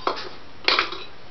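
A fork mixes pie dough for a rhubarb blackberry double-crust pie in a bowl, giving two sharp scraping clinks against the bowl, each followed by a short rustle, close and clear.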